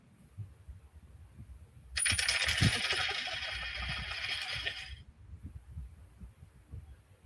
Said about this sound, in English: Did you hear the coins rattling?